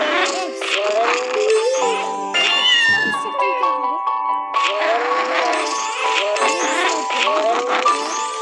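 Cartoonish cat meows and yowls from a cat puzzle video game come in repeated, varied bursts over about eight seconds, with a brief chime and crash mixed in and a person talking over them.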